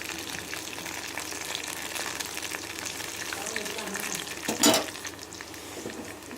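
Mushrooms for mushroom 65 fry in hot oil with a continuous soft sizzle and bubbling, fairly faint. A brief louder clatter of stirring or turning comes near the end.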